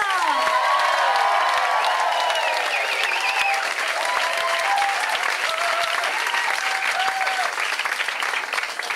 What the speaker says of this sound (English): Keep that applause going and just add to it.